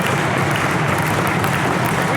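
Applause in the legislative chamber in Vancouver, British Columbia, a dense, steady burst of many hands clapping close and loud throughout.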